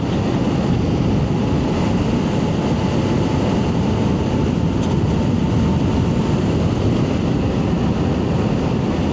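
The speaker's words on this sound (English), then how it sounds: "this bike just has no problems just fully accelerating out of here" A 72V swapped e-bike with a stock 205 hub motor accelerates flat out up a steep hill, almost entirely masked by loud, constant wind roar over the microphone, with a faint steady motor whine underneath.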